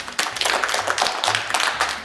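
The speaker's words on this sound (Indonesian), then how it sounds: "Kita akan tepuk tangan buat Adit" Children in a classroom clap for a classmate named Adit, a burst of quick, uneven hand claps at close range with no talk over it.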